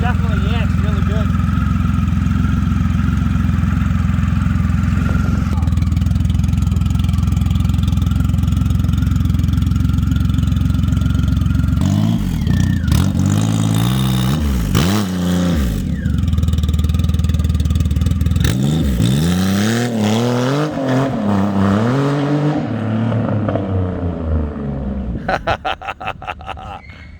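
A 150 hp Triumph Rocket touring motorcycle idles with a deep, steady drone, then revs hard in repeated rising bursts before the sound trails off near the end.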